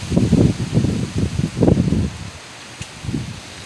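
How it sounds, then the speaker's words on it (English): Strong gusts of wind rush through a tree's leaves in two loud rustling surges with a gap between them, then drop to a quieter lull before a smaller gust returns near the end, with an approaching storm around. "That's a big gust that just came through."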